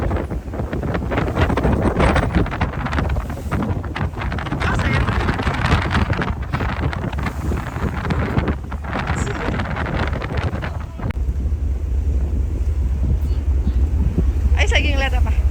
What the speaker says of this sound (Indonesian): anginnya sangat kencang sekali